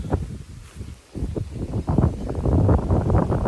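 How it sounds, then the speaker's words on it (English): Gusty outdoor wind buffets a microphone in rough low rumbling surges that build louder toward the end, close and continuous, with no voices. "the wind blows and the whole gimbal just goes with the wind"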